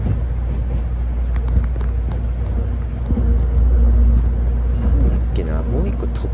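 A train pulling out of Hiroshima station, heard from onboard as a steady low rumble with rising motor hum and faint clicks from the track.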